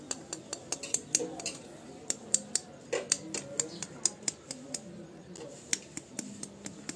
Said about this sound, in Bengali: প্রথমে এই ডিমটাকে আমরা ফাটাবো